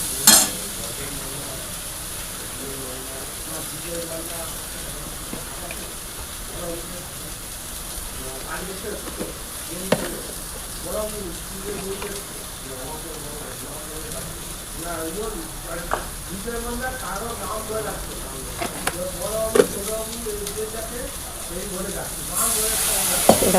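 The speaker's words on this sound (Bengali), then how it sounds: "দেখো এবারে মশলা দিয়ে দেবো, আদা এই সর্ষে আর জিরে বাটা দিয়ে একটু ভালো করে কষিয়ে জল ঢেলে দেবো।" A spice paste of ginger, mustard and cumin sizzles and fries in a pan while fish curry is stirred, a steady close hiss with occasional scraping stirs, and someone talks over it throughout.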